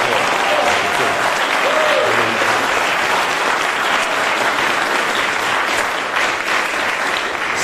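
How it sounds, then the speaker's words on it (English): Enthusiastic audience applause in Atlanta for boxer Evander Holyfield, a loud, sustained wall of clapping from a large crowd that stays steady throughout. "And let's give him a clap."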